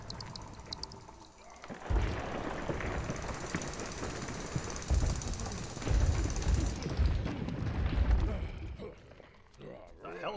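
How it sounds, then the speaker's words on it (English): A jackhammer rattles in the video game Manic Miners, a dense mechanical pounding and clatter that swells in bursts under a man's speech. "Hell of a jackhammer, damn."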